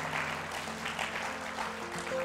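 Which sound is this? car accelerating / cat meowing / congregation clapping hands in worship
congregation clapping hands in worship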